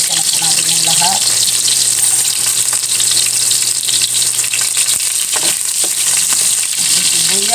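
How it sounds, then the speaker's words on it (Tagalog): Crab and ginger sauté in a hot pan under a steady, loud sizzle, with occasional clatter of stirring and a hint of running water in the background. "Yan, igisa na po natin yung lahat."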